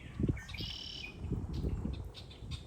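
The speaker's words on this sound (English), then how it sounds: "Also lots of birds." Birds call near open water in gator country, with a few short chirps and a thin sustained whistle rising over a low, murmuring background at moderate distance.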